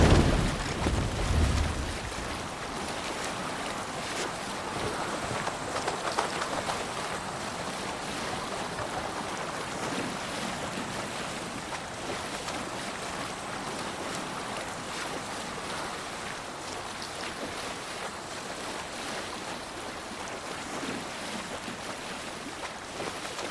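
A Viking longship sailing over ocean waves in Assassin's Creed Valhalla, with steady surf wash, rushing wind and creaking boat movement throughout, no voices.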